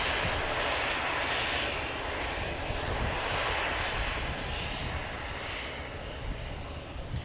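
An Etihad Boeing 787-9 Dreamliner arriving from Abu Dhabi at Manchester Airport produces a loud, continuous broadband jet roar that holds steady and then eases slightly toward the end.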